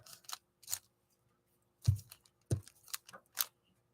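Paper scraps, some coated in blue spray paint, being torn by hand for scrapbook crafting: several short, sharp ripping bursts with pauses between them, close and fairly quiet, with no talking.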